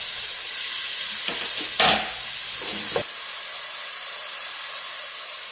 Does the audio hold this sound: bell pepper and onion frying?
yes